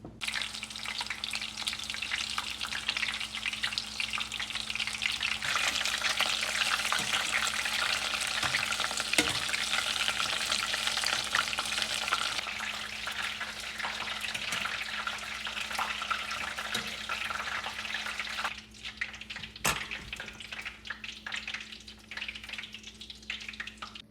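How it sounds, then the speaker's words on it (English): Battered shrimp frying in hot oil, a dense continuous crackling sizzle close by, easing slightly in the later part, with occasional clicks of a utensil and no voices. "Now we'll take each shrimp and go into the oil."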